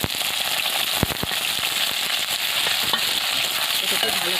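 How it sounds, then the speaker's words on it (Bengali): Potatoes frying with okra in a pan, a steady close sizzle and crackle of hot oil with a few sharp pops and stirring scrapes, no voices. "এটাকে ভালো করে লাল লাল করে আলুটাকে ভেজে নেব।"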